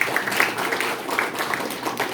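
An audience claps at a Brahmakumaris talk on stress management and personality development. The applause is dense and steady for about two seconds, with no clear break.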